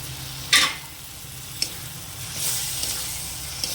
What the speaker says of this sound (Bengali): তো এবার আমি দিয়ে দেবো এর মধ্যে যে টমেটো বেটে রেখেছিলাম, তো ওই টমেটো বাটাটা